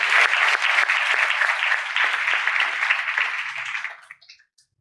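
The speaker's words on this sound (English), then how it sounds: "So please let us give a big round of applause for Sriram." An audience at a graduation ceremony claps for Sriram, a loud, dense burst of many hands lasting about four seconds before tapering off to a few last claps and silence.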